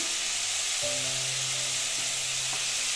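Cumin powder dropped into hot oil while cooking a vegetarian ridge gourd curry gives a steady loud hiss of sizzling frying throughout, close by, with no talking.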